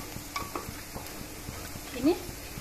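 A spoon stirs coriander powder into a fish curry with potato and tomato in a pan: rapid, regular light scrapes and taps over a quiet simmering sizzle, with one louder knock near the end.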